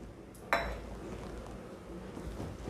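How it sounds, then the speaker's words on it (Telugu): A metal pan set down on a kitchen stove, one sharp clinking knock early on, then a steady low background hum. "స్టవ్ మీద pan పెట్టుకోవాలి"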